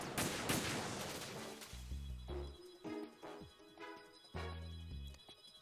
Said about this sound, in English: take them down with the regular sniper rifle